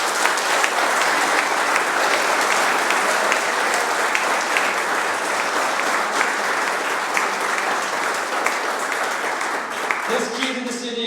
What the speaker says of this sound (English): Let's give a big round of applause to the former mayor of the city of Hammond